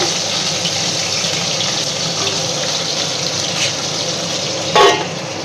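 A fish head fries in an iron wok, giving an even, close sizzle throughout, with a brief sharp clatter near the end.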